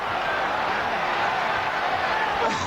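A basketball arena crowd at a 1996 Bulls at Suns NBA game yells steadily after a foul, a broad sustained roar with no break across the moment.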